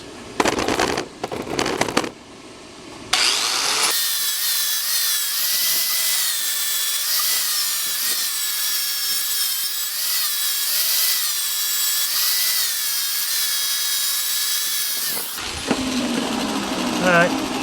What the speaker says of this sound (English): I do have to grind all this aluminizing shit off of here